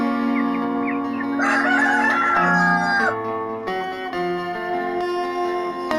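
A Colombian Brahma rooster crows loudly nearby, a drawn-out warbling call over a busy backdrop of other fowl clucking and calling in the coop.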